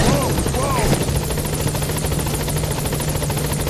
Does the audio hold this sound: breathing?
no